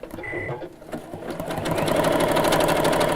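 A sewing machine stitching a large decorative stitch, suited to fabric such as fur, starts with a few hesitant runs, then settles into a loud, fast, steady mechanical whirring and clatter, close by.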